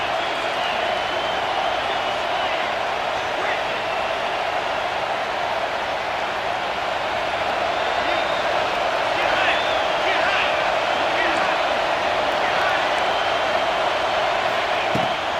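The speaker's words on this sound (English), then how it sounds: "This crowd bringing the energy and noise early." Constant roar of a large stadium crowd in EA College Football 26, a dense, steady wash of cheering noise that continues without break under a broadcast commentator's voice.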